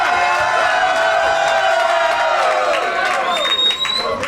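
A crowd at a bowls world championship open singles final cheers and murmurs steadily and loudly throughout, with a few rising whoops near the end.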